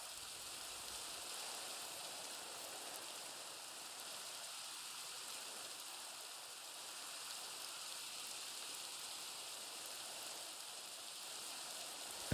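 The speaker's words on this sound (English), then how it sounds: "And rain begins to fall." Steady rain falls in an even, hissing wash that holds at the same level throughout, with no voices.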